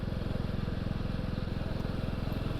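A Royal Enfield Classic 350 motorcycle rides along a country road, its engine giving a steady, rapid low thumping pulse that runs evenly throughout, close and fairly loud.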